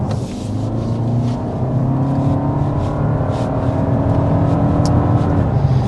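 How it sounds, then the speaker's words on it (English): A 2025 Toyota Camry XSE hybrid accelerates hard out of a corner, heard from inside as a steady engine and electric-motor drone rising in pitch over road noise, with no talking. "you got that punch of the electric motor as we kind of pull out of the corner"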